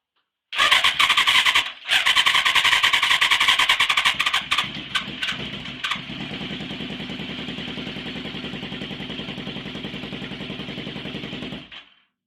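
A Yamaha FZR 1000 engine in a grasstrack motorcycle cranks and catches, loud and close with rapid harsh firing pulses that sputter unevenly, then settles into a steady lower drone before cutting off.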